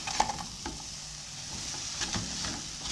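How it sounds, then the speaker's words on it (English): Spring roll filling sizzles in a hot pan as a spoon stirs it, soft scraping and light clinks over a continuous fry, nearby and without talk. "You have to make sure you keep on stirring this so it won't get burnt."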